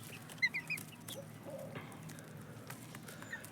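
Chickens and chicks at a farm breeding roosters for sale give faint, distant clucks and a few high peeps early on, over a quiet, steady outdoor background.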